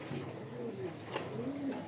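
Racing pigeons cooing in a loft, soft repeated throaty coos from a few birds nearby over a low steady background hum.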